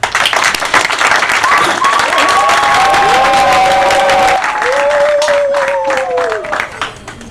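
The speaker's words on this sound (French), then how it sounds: "que nous allons saluer par des acclamations" An audience at an award decoration ceremony breaks into sustained applause and cheering, loud and steady throughout, with whistles and shouted voices rising over the dense clapping.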